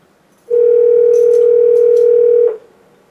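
A single steady telephone tone sounds loud and alone for about two seconds, as a call rings through to voicemail before the outgoing greeting.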